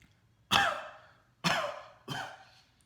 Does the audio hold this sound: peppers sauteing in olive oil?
no